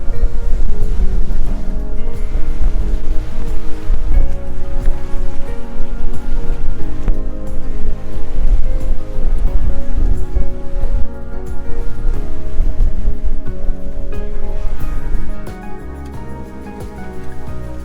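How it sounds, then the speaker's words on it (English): Steady, dense rain falls outdoors near tall sea cliffs above deep water, a loud continuous hiss with broad wash of drops and surf-like rumble, easing slightly near the end; no one speaks. "Can you tell which side the rain was on?"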